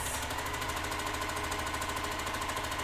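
A sewing machine stitching quilt hourglass blocks, with a steady, rapid mechanical chatter that runs continuously at moderate volume.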